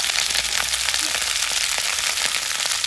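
Mixed vegetables frying in a pan with garlic ginger paste and chili flakes, giving a loud, continuous close-up sizzle with dense crackling pops throughout and no voices.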